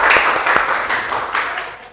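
Students in a classroom give a short burst of applause for a group, with dense clapping that fades out within two seconds and a few voices underneath.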